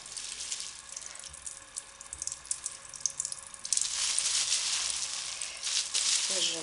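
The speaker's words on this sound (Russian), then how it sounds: "И теперь сливаю воду." Water drains away during wet felting of wool slippers: a faint trickle and patter, then a louder rushing, hissing flow begins about halfway through and keeps going.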